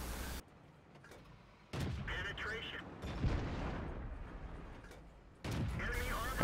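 Tank gun blasts from World of Tanks, a T1 Heavy loaded with gold rounds: heavy booming shots that are loud and close, followed by rumbling tails and engine noise, with someone talking over part of it.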